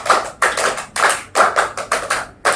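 A group claps in unison during a counting-based clapping game in a group counseling session: several sharp, close bursts of hand claps in an uneven rhythm, with no talk.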